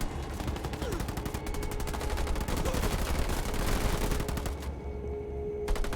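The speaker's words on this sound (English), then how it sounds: "Under fire from ground troops!" Squads trading gunfire in the Halo Wars 2 strategy game produce dense, continuous rattling bursts of automatic fire, loud and close, with a brief whistling tone and a short pause near the end.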